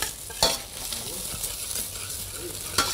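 Couscous is fried and stirred in a pan, a low steady sizzle broken by a few sharp scrapes and clinks of the utensil against the pan; no one speaks.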